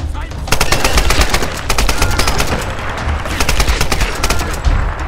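Loud assault rifle fire in Tomb Raider rattles out in rapid close bursts of sharp cracks, nearly continuous with short pauses, over a rumbling battle backdrop.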